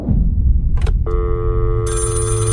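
A telephone bell rings clearly in a steady electronic trill that starts about a second in and then rises in brightness, with a low background rumble underneath and no talk.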